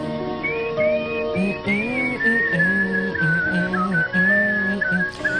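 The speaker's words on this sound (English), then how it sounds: "he just fucking whistles the hell out of a song" A man whistles a song in a clear, loud, sustained melody with sliding pitch and steady phrasing, heard alone without talk.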